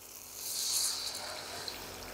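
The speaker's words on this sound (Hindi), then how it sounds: "2 कप पानी डालेंगे" Water poured into a cooking pan, two cups for making Maggi noodles, gives a soft continuous trickle and splash that swells at first and then holds steady, close by with no talk.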